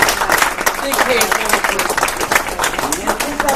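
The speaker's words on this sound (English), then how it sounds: "So give him a big round of applause for that." A big round of applause from the audience at a monthly business meeting in Sacramento, a dense continuous wash of clapping throughout, fairly loud and close.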